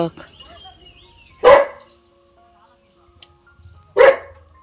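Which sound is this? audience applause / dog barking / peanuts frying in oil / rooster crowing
dog barking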